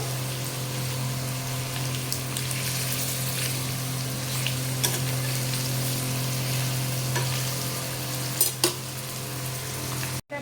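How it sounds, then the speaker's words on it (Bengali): Paneer frying in a pan gives a steady, dense sizzle that holds evenly for about ten seconds, with a constant low hum beneath it and a couple of brief clinks near the end. "এই যে পনির ফ্রাই করা চলছে"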